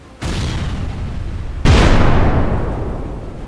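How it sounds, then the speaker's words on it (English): Japanese cruiser guns open fire in a night naval battle off Savo Island near Guadalcanal: two loud, close booms, the second heavier, each followed by a long rumbling decay. "Japanese cruisers open fire and catch the Allies off guard."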